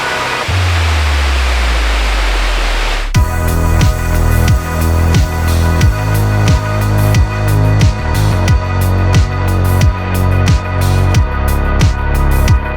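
Waterfall in the Idaho mountains near the old Deadwood Mine, a steady loud broadband rush of falling water that gives way after about three seconds to a louder, rhythmic series of low thumping pulses.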